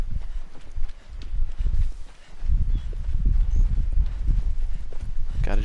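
Horse hooves clip-clopping in Shadow of the Colossus, a steady run of dull, low thuds, close and moderately loud, over faint rustling underbrush with no voices.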